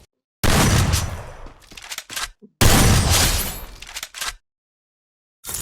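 Gunfire from an MP40 in the video game Free Fire: two loud, dense bursts of rapid shots, each lasting about one and a half seconds, separated by a short gap and followed by a few brief shot clusters.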